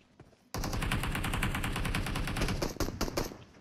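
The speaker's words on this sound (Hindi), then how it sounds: "पता नहीं कहाँ से गोलियां आ रही है यार।" Rapid automatic gunfire from the mobile shooter PUBG Mobile in a team deathmatch, erupting suddenly into a dense, loud burst of repeated shots that runs for about three seconds before breaking into scattered rounds.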